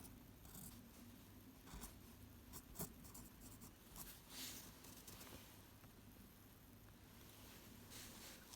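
Pen strokes on paper writing the Chinese character 又 in standard script, a soft scratchy scraping that comes in short strokes, faint and close, with no talking.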